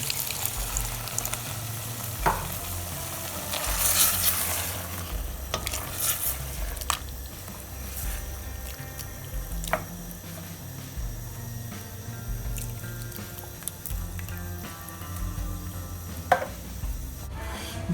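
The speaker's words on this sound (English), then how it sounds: "we're going to add some coconut milk to it" Beetroots cooking in a pan as coconut milk goes in, with a steady frying sizzle and repeated scraping stirs of a spoon against the pan, clattering now and then over about eighteen seconds.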